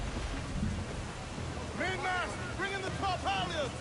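Thunder and heavy rain roll through a storm at sea in the video game Assassin's Creed Black Flag, a continuous rumbling wash with someone talking over it.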